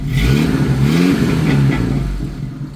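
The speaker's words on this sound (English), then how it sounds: "You want to rev it a couple times?" An old Jeep YJ Wrangler engine revs loud and close, with its pitch climbing and dropping through a couple of throttle blips before it eases back toward idle. The exhaust leak has just been repaired.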